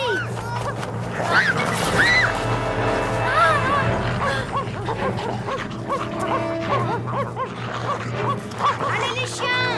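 Several dogs bark and yelp excitedly while attacking, loud overlapping barks in a rapid irregular burst with some whimpering, a low steady hum underneath.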